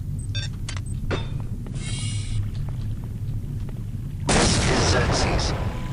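Pistol gunshots in System Shock 2, a handful of sharp bursts with a loud, dense blast near the end over a steady low game rumble.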